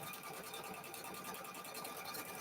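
A sewing machine stitches rows of a cow-themed quilt, a close, even, rapid mechanical chatter running without pause for the whole stretch.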